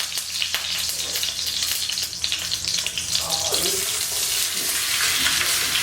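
Hot oil sizzles loudly in a cast iron skillet, ready for thinly sliced sweet potatoes, a dense continuous hiss close by that shifts in tone partway through, with no talking.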